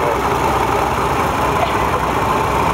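A steady tractor engine drones close by, a continuous low rumble with even loudness and no pauses or voices.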